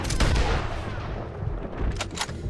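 Gunfire in Red Dead Redemption 2, a dense rumbling exchange of shots with a couple of sharp cracks standing out near the end.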